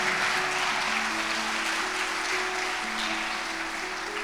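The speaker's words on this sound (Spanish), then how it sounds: "Si le vas a dar un aplauso al Señor" A church congregation applauds in a steady, moderately distant wash of clapping, with a sustained tone from music or a voice in the background.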